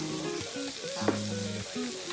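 Pork belly sizzles on a grill at a Korean samgyupsal meal, a steady close frying hiss with faint crackles and low background murmur, no clear talk.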